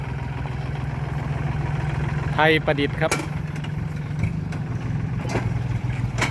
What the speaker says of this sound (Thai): พามาชมรถไถคูปต้านะครับ ดำซิ่งนะครับ